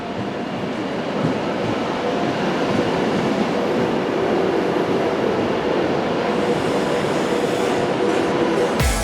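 A diesel passenger train runs at a station, a loud, steady rumble with continuous rail noise throughout and no voices.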